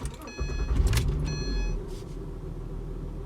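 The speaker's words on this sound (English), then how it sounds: "So let's start the car." Acura ZDX (2010-2013) engine cranking and catching after an oil change, a loud surge near the start that settles into a steady low idle rumble, with brief chimes over it.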